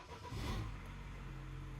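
A car engine cranks and catches after the ignition is switched on, then settles into a steady idle, loud and close with a brief surge at the start.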